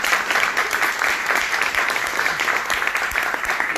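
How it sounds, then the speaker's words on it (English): Audience at a panel discussion with Salam Fayyad and Noura Erakat applauding the panelists, a steady dense clapping from a room full of people, sustained and fairly loud throughout. "please round of applause for our own great panelists"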